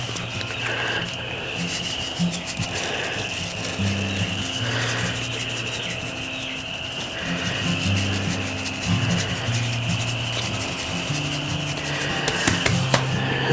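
Black pepper seasoning is rubbed by hand onto a pork butt, giving a steady close-up rasping, rubbing texture that continues with slight variations in rhythm and no talking.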